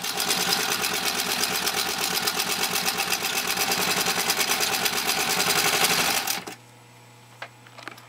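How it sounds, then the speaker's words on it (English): A 1921 Singer 66-1 sewing machine with a .75 amp motor stitching through 10 layers of heavy denim, a steady rapid mechanical clatter for about six seconds that abruptly stops, leaving a faint motor hum and a few small clicks. "We just did 10 layers of heavy grade denim"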